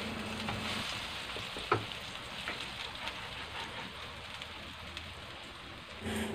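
Cong you ping, a Taiwanese scallion pancake, frying in hot oil gives a steady, even sizzle and crackle throughout, close and moderately loud, with one brief clatter partway through and no voices.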